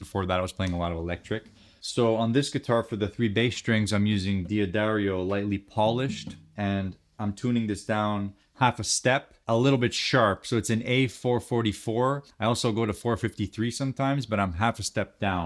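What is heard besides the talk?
None of the usual background noises is heard.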